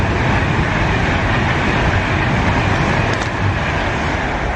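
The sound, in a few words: fast train passing through a station platform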